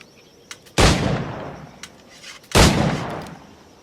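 Two loud, booming firearm shots in Assassin's Creed Black Flag, each a sharp crack with a long rumbling tail, spaced almost two seconds apart over faint ambient background.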